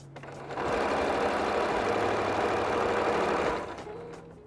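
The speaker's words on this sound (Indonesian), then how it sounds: "Kita jahit lurus je." A sewing machine runs a straight seam on a batik tote bag, a close, steady whirring drone that starts after a brief pause and stops cleanly near the end.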